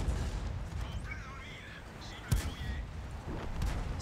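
A single tank cannon shot from World of Tanks, firing a high-explosive round, cracks out sharply in the middle over a steady bed of game ambience and tonal music.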